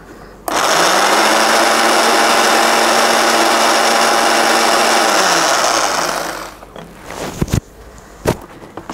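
A kitchen grinder pulverises two dry face-mask ingredients in one loud, steady whir lasting about six seconds, then spins down, followed by a few sharp knocks and clatters.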